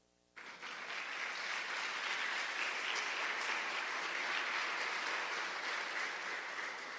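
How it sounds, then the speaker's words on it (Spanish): A church congregation bursts into applause, starting abruptly after a quiet moment and swelling into a full, steady wash of many hands clapping for several seconds. "Den un aplauso al Señor."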